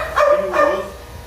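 A small female dog gives two sharp, yappy barks close by, about a third of a second apart, with quiet room noise in between.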